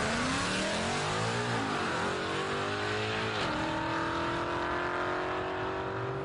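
Race car accelerating hard on a local racetrack, heard from inside: the engine climbs in pitch, drops through a gear change, then pulls up again with a loud, continuous roar.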